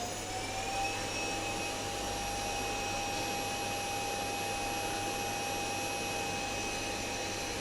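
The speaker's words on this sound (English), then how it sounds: "The vacuum's going hard now." A vacuum cleaner runs loudly and steadily throughout, a continuous close whine with a sustained high-pitched tone over broadband airflow noise, with no speech.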